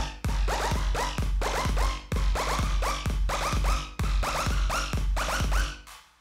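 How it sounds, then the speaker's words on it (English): An 808 clap sample loops in Reason: sharp, dry claps land in a tight repeating rhythm, with the pattern cycling about every two seconds, alone and upfront. "It's a very simple 808 clap, little loop that I like to use."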